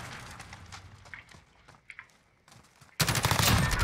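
Machine gun fire bursts out loudly in the video game Modern Warfare, a dense rapid rattle at the end that follows quieter scattered clicks and footsteps.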